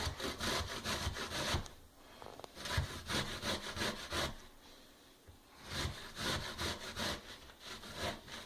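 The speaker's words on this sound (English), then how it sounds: "We usually grate this pear." A pear is grated by hand for Korean kimchi: steady, rhythmic rasping strokes up close, with one brief pause midway and no talking.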